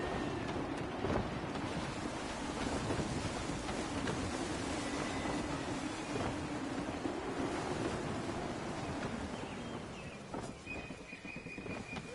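Steady gusty wind and rolling sea waves surround a sailing ship in Assassin's Creed 3, a continuous broadband rush with surf swells throughout and a faint high tone near the end.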